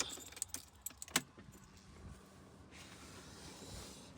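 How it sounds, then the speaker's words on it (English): A bunch of car keys jangles in a few sharp, close rattles as the key is turned in the ignition of a car with an engine fault in a garage, then a low, steady hum carries on underneath. "Ignition on"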